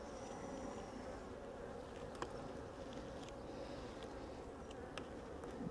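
A steady, dense drone of many honey bees buzzing around an open hive during an inspection, continuous and close, with faint clicks of frames and equipment.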